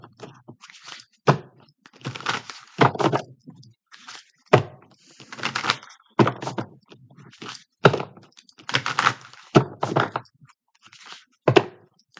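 Repeated bursts of riffling and soft slaps as a tarot card deck is shuffled, about eight rapid shuffles in a row with brief pauses between, close and crisp.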